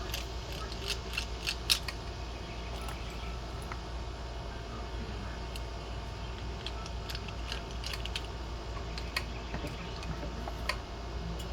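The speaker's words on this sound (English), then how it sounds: "let's smooth out the inside a little bit and grind it down a little bit." Light rapid ticking and scraping as the inside of a white gold ring is ground and smoothed during resizing, a busy mechanical texture over a steady low motor hum, fairly quiet and with no talking.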